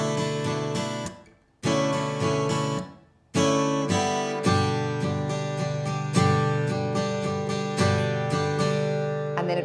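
An acoustic guitar strums the chords of section 2 of a song in a brisk up-down pattern, loud and close, with two brief pauses early on before continuous strumming.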